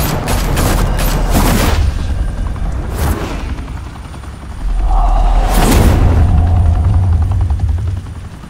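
Sustained gunfire and rumbling blasts in a Batman: The Telltale Series battle in Gotham, loud and dense, swelling in two heavy bursts with a droning low roar underneath.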